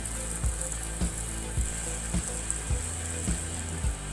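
Bonda batter balls deep-frying in hot oil make a constant bright, hissing sizzle, with soft regular thumps recurring about every half second underneath.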